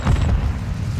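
A Semtex grenade detonates in the Warzone video game: a single short, deep boom with a heavy low rumble that fades within a second.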